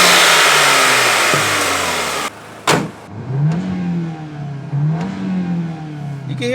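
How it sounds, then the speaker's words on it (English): VW MK8 Golf R with a turbo inlet pipe and elbow, cold-started: loud steady engine roar, an abrupt cut with a sharp pop, then several rising revs with turbo spool, close and alone. "You can hear the nice turbo kickoffs."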